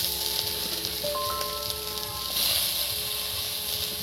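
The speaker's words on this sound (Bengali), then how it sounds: "এবার কুচি কুচি পেঁয়াজটা দিয়ে দিচ্ছি" Chopped onion hitting a hot pan while making pasta, a steady sizzle and hiss that swells slightly midway, close and continuous, with faint tonal kitchen background.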